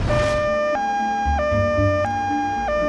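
A loud two-tone ambulance siren alternates steadily between high and low pitches, close and continuous, with low traffic rumble beneath.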